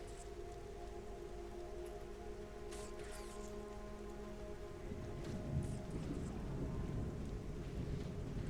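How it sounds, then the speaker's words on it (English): Steady rain patters down in the video game Monsters and Memories, a soft, even hiss that lasts throughout. A low rumble of thunder swells and becomes fuller about halfway through. "Begins to rain."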